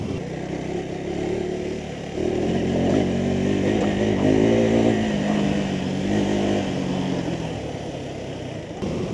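A 2026 KTM 390 Adventure motorcycle with a small 350cc engine roars as it accelerates, a close, throaty engine note rising and swelling for several seconds without any talk.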